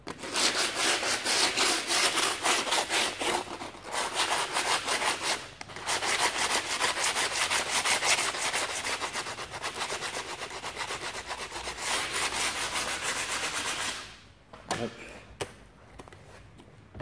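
Wood being cut and trimmed by hand for a DIY light panel: steady, rasping back-and-forth sawing or rubbing strokes close up for most of the clip, stopping near the end with a few faint knocks.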